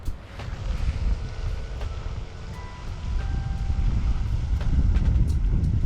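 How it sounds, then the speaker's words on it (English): Wind blowing outdoors at a fishing spot, a steady low rumble and buffeting that builds slightly over several seconds, loud and close, with no voices. "this wind sucks"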